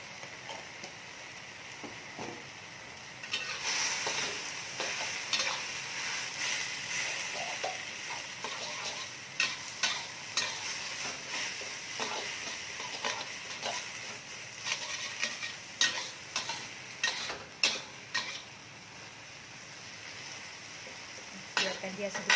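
Sambal with squid, anchovies and peanuts bubbling and sizzling in a pan for home-made Malaysian nasi lemak, a steady frying hiss broken by clinks and scrapes of a utensil stirring against the pan.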